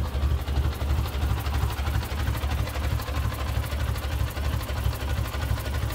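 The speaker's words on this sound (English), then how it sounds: "Listen to that Ford purr." A 1953 Ford NAA tractor engine idles with a steady, low, rhythmic throb and a continuous rumble at close range. No voices accompany it.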